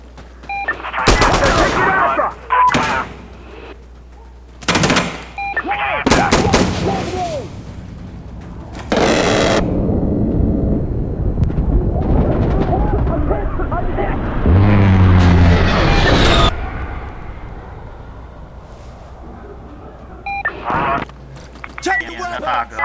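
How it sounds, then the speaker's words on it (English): In Insurgency Sandstorm, an air strike strafes the area with rapid bursts of gunfire and heavy booming explosions, loud and close, separated by quieter gaps and shouted voices. "We need air to strafe this area. Light it up!"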